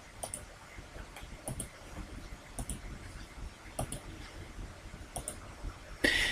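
Mouse clicks while selecting options in Microsoft PowerPoint 2010, a series of sharp, isolated clicks spaced about a second apart, close and crisp over quiet room tone.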